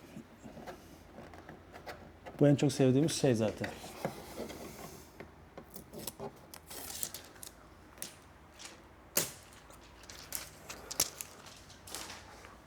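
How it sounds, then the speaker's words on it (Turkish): Packing tape is peeled off a new Roborock Saros 10R robot vacuum during unboxing, making quiet, rough ripping and rustling strips amid handling noises, with a person talking. "Şimdi bantlarımızı da açalım."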